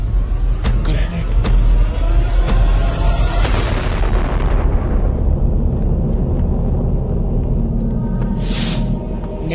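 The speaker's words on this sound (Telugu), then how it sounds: "గ్రెనేడ్." A grenade explodes in the battle royale game PUBG, a loud, sustained low boom and rumble that fills the first few seconds, then settles into a heavy, lingering roar with no talk over it.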